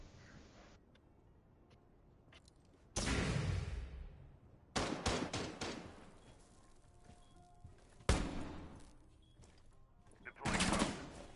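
Bursts of gunfire in a competitive shooter video game, several sharp loud volleys separated by quieter stretches, with distinct bursts near the start, middle and end.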